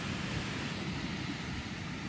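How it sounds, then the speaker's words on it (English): Ocean surf washes along a beach on a sunny day out, a steady, broad roar of water and waves filling the whole stretch with no breaks or voices. "Can you hear the water and the waves?"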